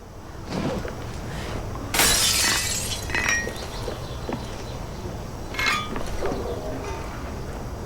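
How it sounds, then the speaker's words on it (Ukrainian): A glass pane shatters loudly when struck with a crowbar in the video game Hello Neighbor 2, a bright crash followed by tinkling shards and a second smaller break later. "Візьми лом та розбий скло."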